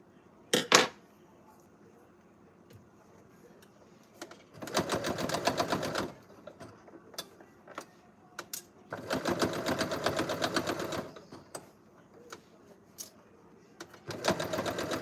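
A sewing machine stitches a bucket hat in two long runs of steady rapid mechanical whirring, separated by quieter gaps with brief clicks and handling taps, all fairly close and clear.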